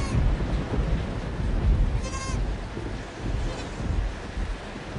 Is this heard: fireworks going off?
no